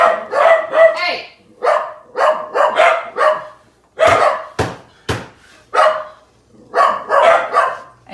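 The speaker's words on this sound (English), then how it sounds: "Some neighbors walking their dogs." Neighbors' dogs bark repeatedly outside a home kitchen, loud sharp barks in uneven bursts close by, with a person speaking in between.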